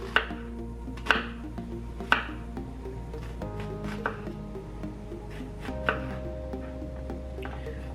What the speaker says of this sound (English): so let's get these cut. I'm gonna dice them up